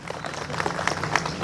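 A hall audience at a Tamil pattimandram debate event claps for the program host, a dense, steady patter of many hands that continues for the whole stretch with no voices over it.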